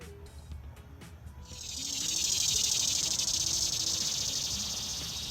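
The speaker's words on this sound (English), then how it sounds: "We always have cicadas." Cicadas in a summer backyard swell into a loud, sustained, shimmering drone after a quieter opening with faint ticks and distant ambient sounds, holding steady to the end.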